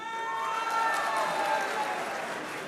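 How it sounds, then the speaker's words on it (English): A crowd claps at a university event, the applause a continuous, even patter lasting the whole stretch with no voices over it. "Ladies and gentlemen, can we please give a huge round of applause"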